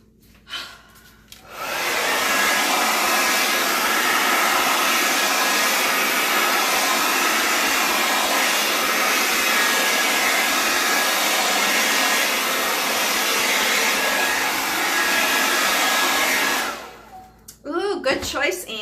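A hair dryer blows in a loud, steady whoosh for about fifteen seconds over an acrylic pour on MDF, then cuts off, leaving brief rustling.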